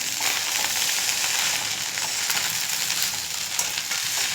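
Egg fried rice being stir-fried in a pan, a loud, dense, continuous sizzle with faint scraping and stirring textures throughout, close and with no talking.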